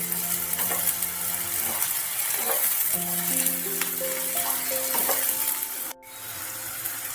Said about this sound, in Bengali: কিছু পেঁয়াজ আমি ভেজে রাখবো বেরেস্তা করে নেব